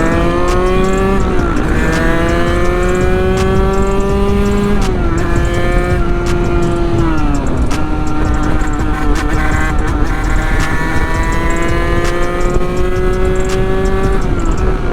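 Sherco big bore dirt motorcycle ridden on a street, its engine droning loud and close throughout, pitch rising and falling with throttle and gear changes, a steady buzzing note with no talk.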